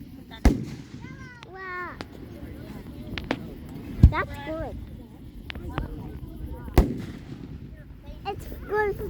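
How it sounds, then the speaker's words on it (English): A fireworks grand finale in Plainfield, Connecticut bursts in several sharp, loud booms scattered among crackles, with whistling rising shells between them and people chatting and exclaiming throughout. "It's good we see fireworks."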